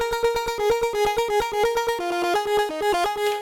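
Rapid, evenly spaced synth plucks from an Elektron Digitone recreating a Streets of Rage 2 track, a bright melodic pattern of short staccato notes stepping between pitches, played alone and fairly loud.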